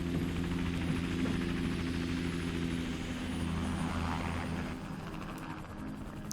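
A steady, loud helicopter rotor drone with engine hum from the video game GTA 5, continuous throughout with no voices.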